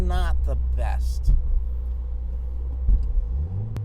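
A Subaru all-wheel-drive car accelerates in first gear on a wet road on stock tires, with a steady low engine rumble swelling and briefly spiking as the wheels slip, and a voice talking over the start.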